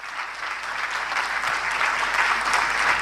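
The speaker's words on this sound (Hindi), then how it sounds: "तालियां देने लगे" Audience clapping at an Ayurveda lecture, a steady, dense wash of applause that holds at an even level for about three seconds, with no voices cutting through.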